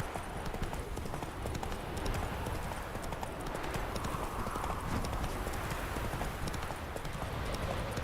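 Steady clip-clop of Roach the horse trotting in The Witcher 3, hooves beating in a continuous rhythm throughout, close and clear over ambient game sound.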